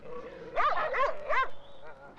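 A dog barks three times in quick succession in a quiet English country setting, fairly close and loud, with a short whimpering tail at the end and no talk over it.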